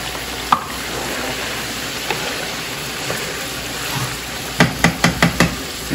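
Seasoned pork fries in a pot with a steady close sizzle, broken by a few stirring knocks and a quick run of metallic taps near the end.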